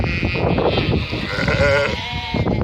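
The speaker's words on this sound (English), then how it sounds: "Your lambs can just go in as they please." Sheep and lambs bleat loudly and close by on a farm, with overlapping wavering calls filling the whole stretch.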